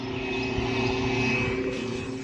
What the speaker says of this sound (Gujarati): આ વિમાને હવે ઉડે જ છે